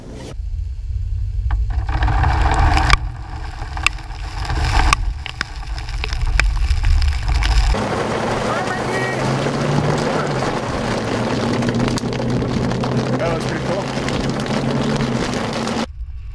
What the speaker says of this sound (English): can hear the hail coming down the street at me